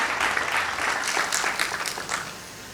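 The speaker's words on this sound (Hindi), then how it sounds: "मैं चाहूँगी एक बार ज़रा तालियां भी बजा दें" Audience clapping at a televised district event in Bahraich, a short burst of brisk, fairly close applause with distinct individual claps standing out.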